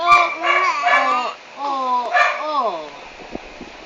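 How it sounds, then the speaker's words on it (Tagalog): A dog gives a string of yelping, whimpering barks close by, mixed with and partly under a person talking to it. "Yung aso na yan, ang ingay-ingay man."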